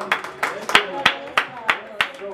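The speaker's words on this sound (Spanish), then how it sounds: "El aplauso que se escucha bien bonito," Rhythmic hand clapping at a mariachi birthday party, about ten sharp claps in a steady beat, close and fairly loud.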